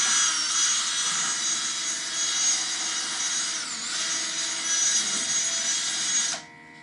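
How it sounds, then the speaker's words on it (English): A drill spinning a wire wheel scrubs rust off a garden tiller, giving a harsh, bright, continuous grinding hiss held close and loud for about six seconds before it cuts off abruptly. "just using this wheel and the drill, get it cleaned up"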